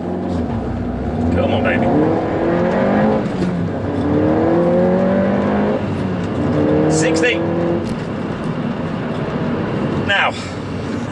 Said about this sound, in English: Okay, straight bit of road, 0-60, 3, 2, 1.